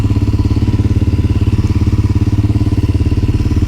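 A 1988 Honda Dominator motorcycle idles up close with a fast, even, pulsing thump and a faint whine riding over the engine beat.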